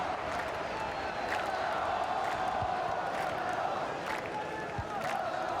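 Crowd noise at an EA Sports FC 24 esports group-stage match, a steady roar of cheering and chatter with occasional louder whoops and claps, sustained throughout.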